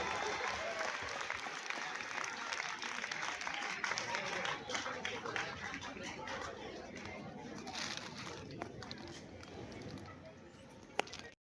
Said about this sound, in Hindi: तालियों की आवाज सुनती रहनी चाहिए जब तक हमारी ग्रुप फोटो हो रही है।